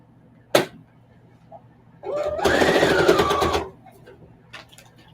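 Sewing machine stitching a crazy quilt, a short burst of whirring motor and rapid needle strokes of about a second and a half between quieter handling sounds and a sharp knock.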